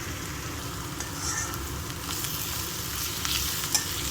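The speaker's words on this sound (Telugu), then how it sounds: "పచ్చి వాసన పోయేదాకా ఫ్రై చేసుకోవాలండి అల్లం వెల్లుల్లి పేస్ట్." Ginger garlic paste frying in a pan with potato and ridge gourd, giving a strong continuous sizzle with scraping stirring strokes and a few sharp clinks, close up and alone without talk.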